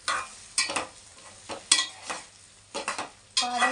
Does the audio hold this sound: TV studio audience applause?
no